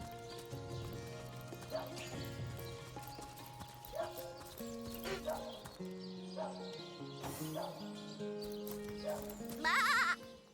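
Sheep bleating near the end, over game music and clopping hooves in the Divinity: Original Sin video game; the bleat is short and fairly clear above the busy mix.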